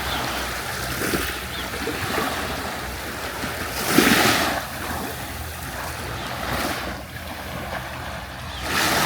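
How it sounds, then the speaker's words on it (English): Sea waves rippling and washing against the sand at Tsilivi Beach on Zante, a steady low surf wash with gentle swells rising and falling, no voices. "so you can hear the sea rippling against the beach"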